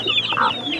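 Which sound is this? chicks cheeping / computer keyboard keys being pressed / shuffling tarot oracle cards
chicks cheeping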